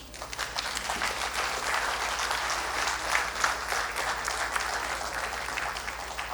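Steady applause from a lecture audience, a dense, even wash of many hands clapping together that carries on without break for several seconds, with no voices above it.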